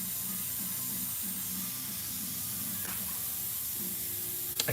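Steady, loud airbrush hiss while spraying paint for a tattoo design, a continuous airy spray carrying a faint pulsing compressor drone underneath, with a brief click near the end.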